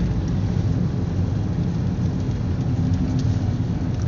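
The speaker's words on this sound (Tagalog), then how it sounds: "Ayan po, umuulan na nga po talaga." Steady rain falls on a town street in the morning, a dense continuous hiss with low traffic rumble underneath, no voices.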